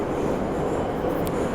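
Steady rumbling roar of a St Petersburg metro train running through the underground, close and continuous, with a brief high squeal of wheels near the end and no talking.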